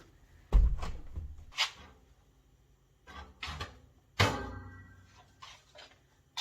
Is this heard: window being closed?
yes